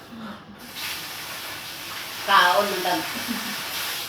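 A sprayer hisses steadily over rice plants, a continuous spray that swells partway through. Someone speaks briefly over it.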